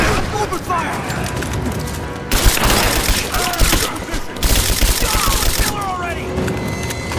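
Dense gunfire and explosive booms in the Rise of the Tomb Raider game, loud bursts filling a busy combat scene, with shouting voices over the shooting.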